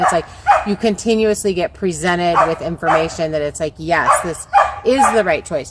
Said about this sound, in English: So I apologize for the barking dog in the background.